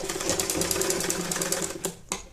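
A sewing machine stitches a baby saliva towel in a fast, even rattle of needle strokes, close and steady, then stops with a couple of small clicks.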